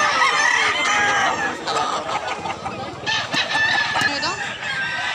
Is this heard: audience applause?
no